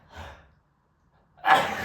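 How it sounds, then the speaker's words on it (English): A single sneeze in a quiet room, a soft intake of breath followed after a pause by a sharp, loud burst, close to the microphone with no talk. "Sorry, needed to sneeze."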